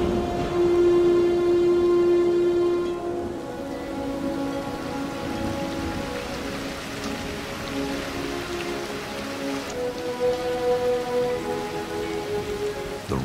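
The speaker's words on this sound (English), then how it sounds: "A dark horizon signals the arrival of the first big thunderstorm of the season." Steady heavy rain from a thunderstorm in the Florida wilderness pours down in a dense, continuous roar, with a low rumbling hum running beneath it throughout.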